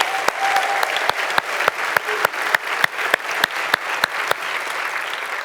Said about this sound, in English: I think Henry and the entire team do deserve a round of applause.